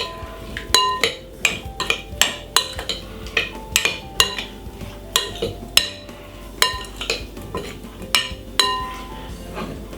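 Seasoned king prawns stirred in a bowl, a rapid series of bright metallic clinks and taps of utensil against the bowl with soft wet shuffling between, close and fairly loud, no talk.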